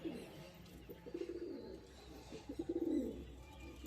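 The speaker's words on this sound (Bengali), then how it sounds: "এই চারটে একদম বাচ্চা পায়রা আছে" Young pigeons in a loft give soft, low cooing bursts, swelling twice into louder rolling coos near the end, close by over a faint steady background hum.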